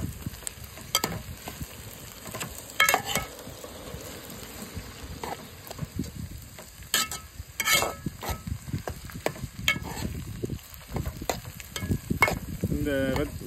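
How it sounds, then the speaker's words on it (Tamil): Tomatoes being sautéd in a pan for a dried seer fish sambal, a soft sizzle under intermittent clacking spatula strokes and scrapes, moderately near and uneven in rhythm. "இப்போ இந்த தக்காளி வதங்குற அளவுக்கு நம்ம வந்து வதக்கணும்"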